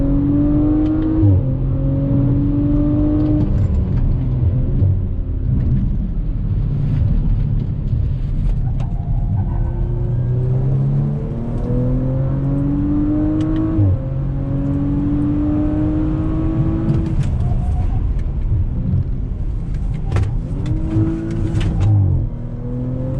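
A 2019 Audi RS5 is driven through twisty roads, its engine heard from inside as it repeatedly revs up and eases off between shifts, loud and continuous with rising and falling pitch.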